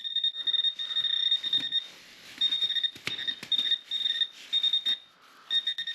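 Metal detector sweeping over heavily mineralized ground in a cave, giving repeated high electronic beeps in uneven bursts with short gaps between them, over faint scraping and handling noise and no talk.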